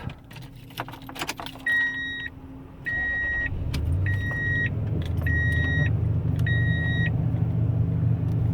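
A 2002 Toyota Tundra SR5 TRD 4WD pickup with 77,000 miles cranks and starts: keys jingle, a chime beeps repeatedly, then the engine catches and settles into a steady, fairly quiet idle rumble close by.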